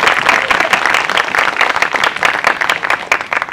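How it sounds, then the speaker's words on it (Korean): A crowd of young people at a town hall meeting with a National Assembly speaker gives warm applause, close and loud, a brisk continuous patter of many hands that fades slightly at the end. "우리 서로 뜨거운 박수로 시작하도록 하겠습니다"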